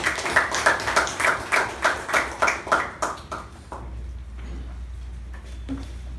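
An audience at a Toastmasters club meeting claps in a steady, quick rhythm for about three and a half seconds, then stops, leaving only quiet room tone.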